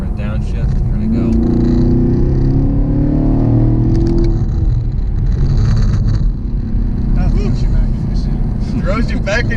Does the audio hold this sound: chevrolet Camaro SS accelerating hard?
yes